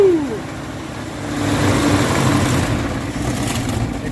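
A 1962 Dodge D200 semi hemi engine with a leaking exhaust manifold idles loudly up close, settling after starting and then rising a little, with a rough, steady chug.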